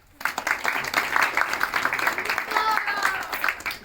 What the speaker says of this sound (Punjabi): ਤਾੜੀਆਂ ਮਾਰੋ